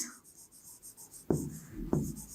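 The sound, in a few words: writing by hand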